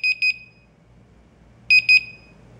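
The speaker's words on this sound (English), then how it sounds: "So that alarmed." BIBENE WP6 WiFi home security alarm sounding indoors: two short bursts of rapid electronic beeps, each three quick high-pitched pulses, separated by about a second and a half of quiet.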